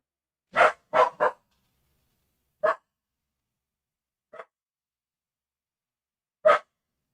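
A dog barks in short separate bursts, three quick barks and then a few scattered single ones, at moderate distance against near silence.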